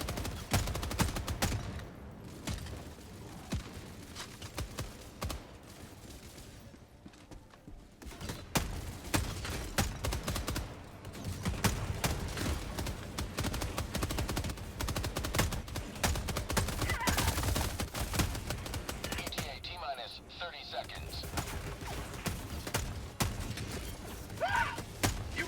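Sustained machine gun fire from Helldivers 2, rapid bursts crackling loudly and almost without pause amid dense battle noise, with a few brief lulls.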